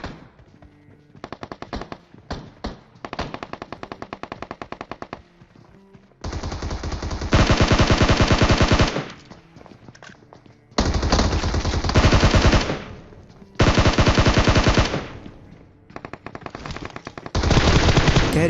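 Gunfire in the mobile battle-royale game PUBG Mobile, played on an iPad Air: several loud, sustained bursts of rapid automatic fire separated by short gaps and lighter scattered shots, with no talking.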